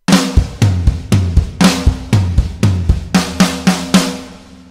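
A drum beat played on the floor tom in place of the top tom, in a song's pattern: repeated booming tom hits with crisp cymbal and snare strokes in a steady rhythm, close and loud, with no voice.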